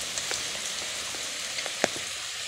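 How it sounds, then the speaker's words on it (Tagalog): Heavy rain pours steadily at an outdoor spot in the Philippines, a dense continuous hiss with scattered sharper drops and one louder close tap, with no voices. "Lakas ng ulan pre"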